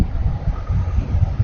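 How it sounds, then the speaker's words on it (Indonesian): Strong wind buffets the microphone during a night motorbike ride on the Pantura road near Karawang, a dense low rumble that surges and fades, close and constant with no voices. "kondisi anginnya lumayan kencang juga"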